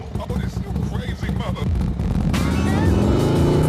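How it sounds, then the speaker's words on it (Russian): A K-750 motorcycle engine with a knocking fault runs close by, first a low rhythmic chugging and then a louder, steadier roar as it revs, with someone speaking over it. "Будем разбираться, что же все-таки стучит в двигателе."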